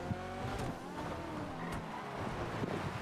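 Honda S2000 racing in GTA Online, a continuous engine drone with shifting revs as the car speeds along, steady and fairly loud throughout with no talking.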